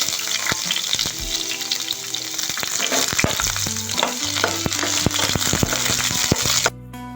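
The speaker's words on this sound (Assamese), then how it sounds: "সেই একেখিনি তেলতে মই পিঁয়াজ কাটি লৈছিলোঁ পিঁয়াজখিনি দি লৈছোঁ" Chopped onions go into hot oil already used for frying, giving a loud, steady, crackling sizzle with sharp pops and stirring clatter throughout, then dropping slightly at the end.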